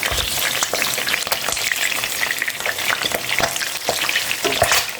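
Longganisa fries in oil with loud, continuous crackling and sharp popping spatters, close and busy without a break.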